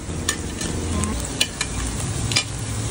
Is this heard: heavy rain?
no